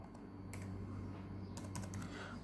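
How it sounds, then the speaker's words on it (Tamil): Typing on a computer keyboard while entering a word into an Arduino serial monitor: a few quick, fairly close key taps in short bursts over a steady low electrical hum. "இப்போ நம்ம இங்கே ஹலோன்னு நம்ம டைப் பண்ணலாம்."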